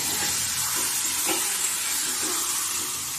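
Black cumin seeds sizzle in hot oil at the start of a fish dish, a continuous crackling hiss heard close up for a few seconds with faint stirring and no voices.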